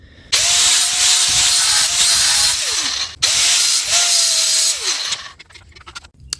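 Power tool cutting a small mount piece for a Honda Shadow 1100VT light, two loud sustained whining passes with a falling pitch as each cut ends, then brief clatter and quiet.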